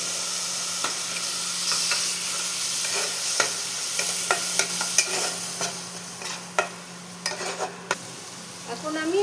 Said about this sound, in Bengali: জলটা দিয়ে মশলাটা কষিয়ে নেব।